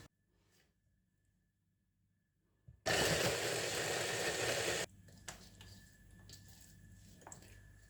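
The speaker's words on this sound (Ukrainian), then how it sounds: "подрібнюємо блендером або нарізаємо на маленькі шматочки" A blender chops onion for a Crimean beef chebureki filling. It gives one loud, dense whir of about two seconds after a quiet stretch, then quieter kitchen clatter follows.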